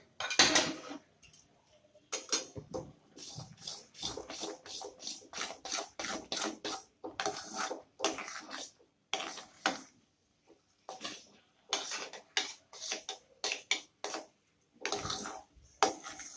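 Wheat flour sheera with milk is stirred in a steel kadhai: repeated rhythmic scraping strokes of a spoon against the metal, close and clear, with brief pauses between runs of strokes.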